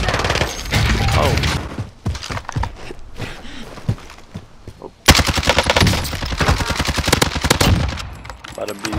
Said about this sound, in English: So the guy Grant shot and fell down